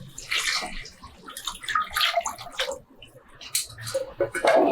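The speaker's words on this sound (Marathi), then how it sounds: "तर आता हे पाणी यामध्ये ओतूया" Water, four bowlfuls, pours in uneven gushes into a pot for prawn rice, splashing and gurgling up close for several seconds with short pauses between pours.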